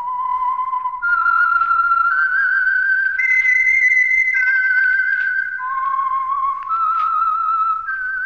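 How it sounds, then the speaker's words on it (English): A lone whistled tune serves as the signal theme of a radio mystery program, a clear, close melody of sustained notes stepping up and down over about eight seconds. "That whistle is your signal for the Signal Oil Program"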